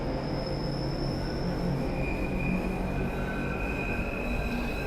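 A London Underground Bakerloo line train departs in Train Sim World 2, rumbling steadily along the tracks with a constant low roar and faint high whine, no voices.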